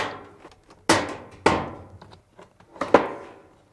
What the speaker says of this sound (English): Depress the locking tabs while pushing in.